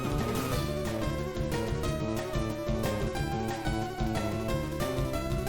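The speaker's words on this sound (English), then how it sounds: "Would you like to hear what the recommended settings are for the game audio when you're streaming?" Pokémon video game audio from a shiny hunting stream, captured at recommended streaming settings: dense, steady game music with repeating beats plays continuously at moderate loudness, with no talking over it.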